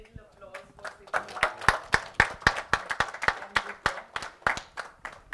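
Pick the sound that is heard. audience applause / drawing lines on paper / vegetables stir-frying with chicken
audience applause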